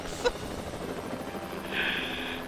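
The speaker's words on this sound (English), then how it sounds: "they're all shooting the helicopter" A helicopter in the Hitman video game whirs steadily through busy in-game noise, with a brief sharp hit early and a rising tone near the end.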